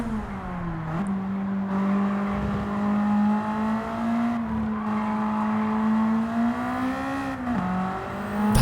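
A race car driven on the Road Atlanta circuit in a racing video game, its engine holding a steady sustained drone that dips briefly on shifts or lifts, loud and close, with no talk.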